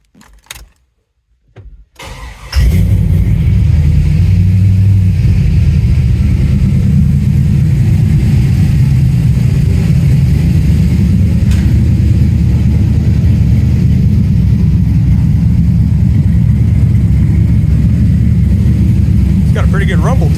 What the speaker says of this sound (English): Pretty good rumble to it.